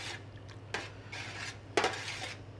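Lamb neck ragu being stirred in a pot for fusilli, with a couple of sharp metallic scrapes of a utensil against the pot over a low steady background hum.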